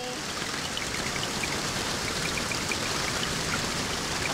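Steady rain falls in the Minecraft video game, an even, dense hiss of drops spread across the whole clip with no voices over it.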